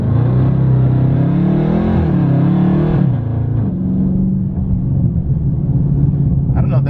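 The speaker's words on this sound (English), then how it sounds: "Press brake and quickly apply full throttle." A 2019 Dodge Charger Scat Pack under launch control at full throttle: a loud, close interior engine roar that climbs in pitch, shifts, and keeps pulling hard, with a voice briefly heard over it.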